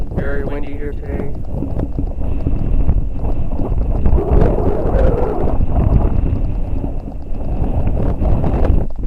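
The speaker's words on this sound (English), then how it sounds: "Very windy here today." Strong wind buffeting an action camera's microphone outdoors, heavy low-frequency rumble and gusting that fluctuates throughout, with a brief voice at the start.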